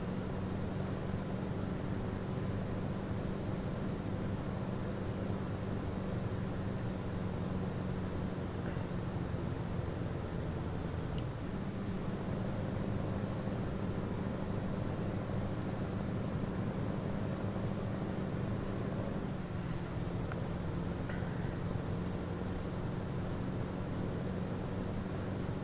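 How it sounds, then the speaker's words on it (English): A Scania 143m truck with a modded engine sound accelerating in Euro Truck Simulator 2: a steady, loud engine drone with a faint high turbo whine that sweeps up, drops and rises again over about 25 seconds, with no talk. "I suppose we should listen to this truck accelerate at some point."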